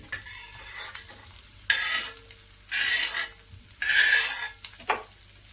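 Roasted eggs for tava anda masala are lifted out of a hot pan on a dhaba-style tava, giving a few scraping, sizzling bursts with utensil clinks in a quiet kitchen.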